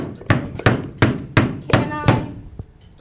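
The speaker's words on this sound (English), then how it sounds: "I need a hammer, nails." A hammer drives nails to jam a door shut, giving six sharp, evenly spaced whacks about a third of a second apart, loud and close, followed by a fainter knock.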